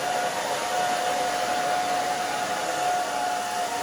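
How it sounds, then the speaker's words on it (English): A blow dryer drying hair during a pixie haircut gives off a steady, even whine with a constant tone, moderately loud and uninterrupted throughout, with no talking over it. "and the blow dryer, obviously"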